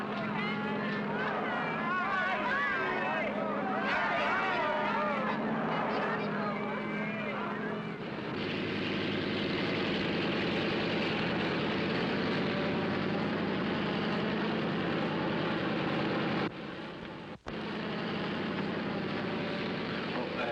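A propeller airliner's engines drone steadily on the ground before takeoff, a loud, continuous rumble heard in a 1948 film, with voices talking over it during the first part.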